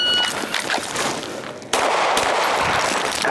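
Gunshots ring out at an outdoor shooting range with silhouette targets, a loud sharp report followed by a dense, continuous wash of noise that holds steady to the end.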